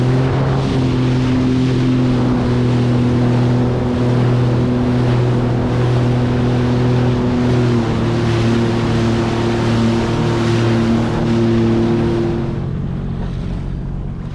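A 2020 SeaDoo Fish Pro personal watercraft running across the ocean, its steady engine drone with tonal hum layered under constant wind rush and water noise, loud and continuous throughout.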